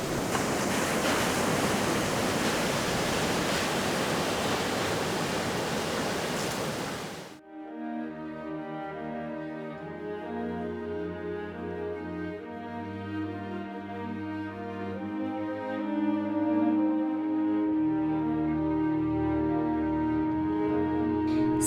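Surf rolls in at an ocean surf spot as a steady broadband roar for about seven seconds, then cuts out abruptly and music takes over for the rest.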